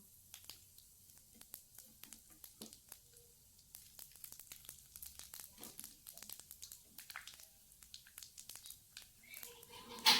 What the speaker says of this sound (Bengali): পাঁচ ফোড়ন দিয়ে দিয়েছি তেলে